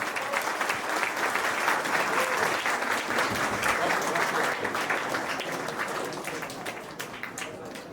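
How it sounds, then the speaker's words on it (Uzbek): Sustained applause from an award ceremony audience at an olympiad prize presentation, dense steady clapping throughout that eases slightly toward the end. "Olqishlab qo'yamiz."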